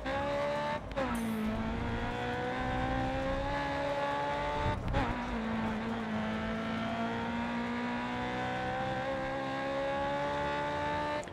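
Race cars in the racing video game GRID Autosport drive continuously, engine tones rising and shifting steadily with brief gear-change breaks, loud and sustained with no talk.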